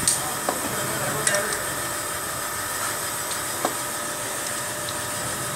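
Cylinder honing tool finishing a Tata Indica engine cylinder, a steady whirring, scraping drone with a few faint metallic clicks.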